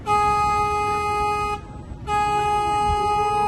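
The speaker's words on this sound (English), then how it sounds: "I'm going to honk the horn" A tour boat's horn on the San Antonio River in Texas: a loud, sustained blast with rich steady tones, briefly cut off for half a second, then sounding again just as strongly.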